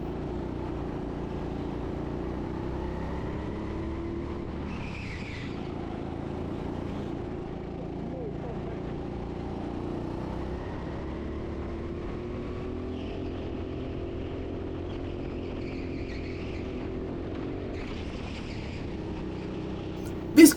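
A go-kart lapping the TeamSport Sheffield track gives a steady, close engine drone that holds for the whole stretch, with a few brief higher whooshes rising above it.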